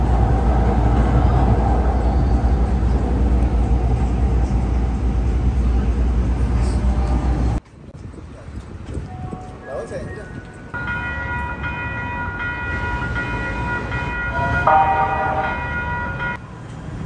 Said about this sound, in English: Once again, I'm taking a train to downtown Los Angeles.